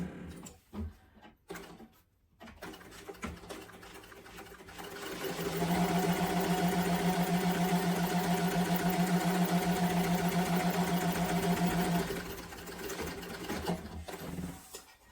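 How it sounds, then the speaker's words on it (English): A sewing machine runs steadily for about six seconds, top stitching through foam on a sling bag, with a few brief handling clicks before it starts and after it stops. "I'm going to top stitch through the foam as well."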